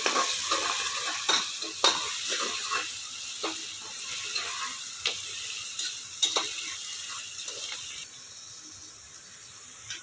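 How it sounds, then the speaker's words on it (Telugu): Mutton for nanva curry sizzling as it fries in a pan, with repeated scraping stirs of a spoon and clinks against the metal, close, steady and without talk. "ఇది కొంచెం వేగినాక మటన్ వేసుకున్నామండి"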